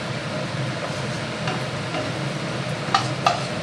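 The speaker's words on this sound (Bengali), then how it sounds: "কড়াই গরম হয়ে গেছে, তেল দেওয়া হচ্ছে। প্রথমে বড়িটা আমি ভেজে নেব।" Bori lentil dumplings frying in hot oil in a wok, a steady close sizzle with a couple of sharp crackles and stirring scrapes near the end, no talking.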